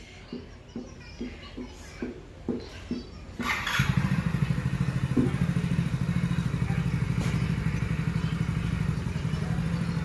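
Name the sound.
motorcycle being ridden by a learner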